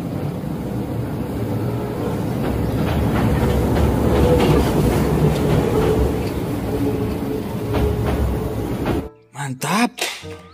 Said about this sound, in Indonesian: Wih, ada kereta api.